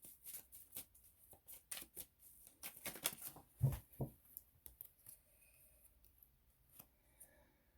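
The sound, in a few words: shuffling Love Oracle cards deck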